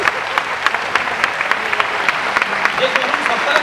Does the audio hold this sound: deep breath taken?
no